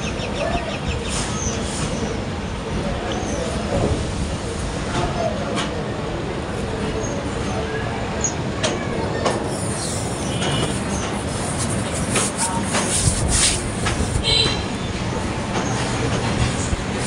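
A Dhaka to Cox's Bazar intercity express rolls slowly across a modern railway bridge over the Meghna river in the monsoon, its wheels making a continuous loud rumble with rhythmic clatter and scattered metallic clanks.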